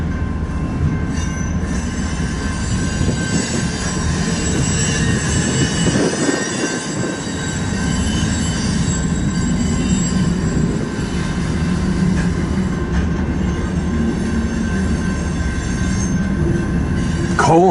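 A freight train on the BNSF line rolls past heading south, a continuous loud rumble of cars and wheels with squealing metal throughout, close by.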